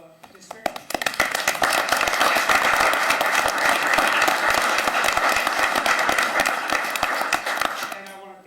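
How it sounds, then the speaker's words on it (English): Sustained, loud applause from a crowd at a city council meeting honouring a retiring drama teacher, steady dense clapping lasting several seconds before tapering off at the end. "I just want to give him a recognition and a round of applause for all his hard work through the district"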